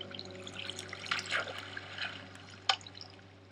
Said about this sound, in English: what ice does is makes the water flow a lot faster.